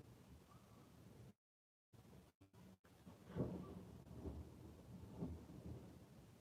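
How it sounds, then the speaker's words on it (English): Thunder from a storm outdoors rolls as a low, distant rumble that swells and fades over several seconds, faint and muffled behind brief dropouts. "I don't know if you hear that thunder,"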